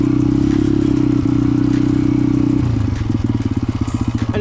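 A motorcycle engine idling loudly and close, then settling into a slower, lumpier chugging as the clutch is eased out and the bike begins to roll away at low throttle.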